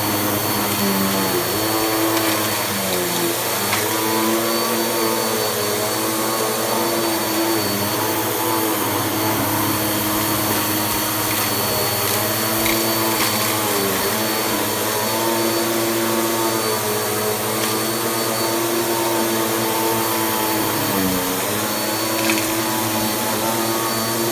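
A Bissell 9595A carpet cleaner, picked from the trash, runs loud and close with a constant motor whine and airflow roar. Its pitch dips and wavers slightly as it works over carpet, and no one talks.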